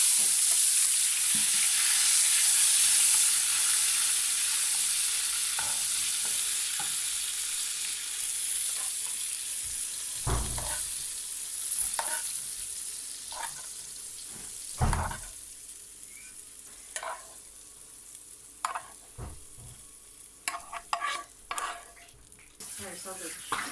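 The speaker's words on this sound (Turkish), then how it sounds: "Yağın içine salça koyduk. Üstüne biraz da su ekleyip sosunu hazırlıyoruz." Tomato paste sizzles and fries in hot oil with water added for a sauce, a steady broad hiss easing over time while spoon stirs and pan knocks click and scrape intermittently, close by.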